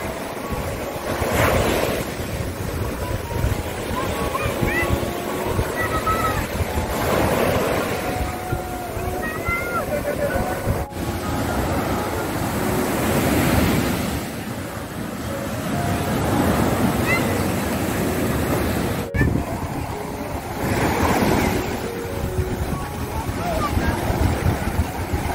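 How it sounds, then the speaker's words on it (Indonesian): Large ocean waves surge and break repeatedly on the beach at Pantai Empu Rancak in Jepara, a continuous near roar of surf with periodic swells, mixed with gusty wind buffeting the microphone. "Ini ombaknya agak besar, jadi harus hati-hati ya."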